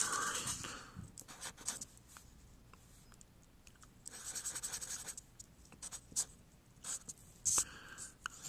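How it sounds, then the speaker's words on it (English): A Sharpie marker writes on paper, giving faint, intermittent scratchy strokes and squeaks in short bursts, close by and quiet, with no talking. "I need to get a Sharpie here, because I got to write what you have"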